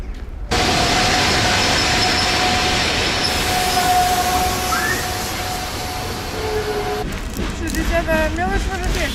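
A long-distance Russian train rolls into a platform with a sustained loud rumble and steady tonal whine of wheels, brakes squealing and fluttering near the end as it slows.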